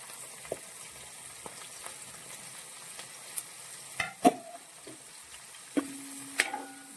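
Garlic, ginger and green chilli fry in oil for a pickle, making a soft, steady sizzle punctuated by a handful of sharp stirring knocks and scrapes, close and without talk.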